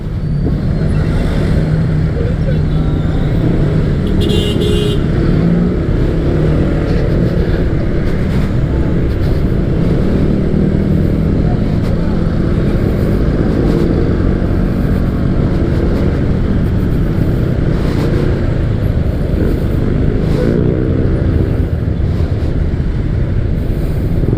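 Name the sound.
congested road traffic, cars and motorcycles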